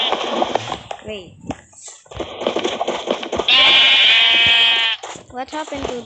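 A sheep in the video game Minecraft lets out a long, loud, wavering bleat that lasts over a second, following a stretch of talk and other game sounds, with rain in the background.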